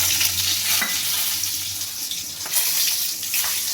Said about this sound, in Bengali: এবার আমি ফোড়নটা দিয়ে দেবো কড়াইয়ের মধ্যে।